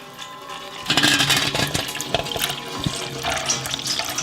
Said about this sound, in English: Pour it into our funnel.